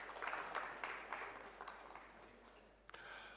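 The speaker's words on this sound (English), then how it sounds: "Let's welcome her with a round of applause." Guests at a business breakfast meeting give a welcoming round of applause, with moderate clapping that softens and tails off after a few seconds.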